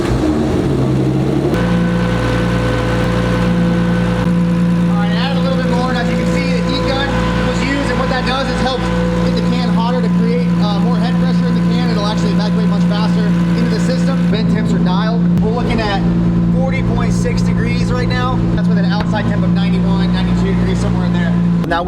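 A vacuum pump draws down the air-conditioning system of a 2JZGTE-swapped Lexus IS300, giving a constant, loud motor drone that runs throughout while a person talks over it.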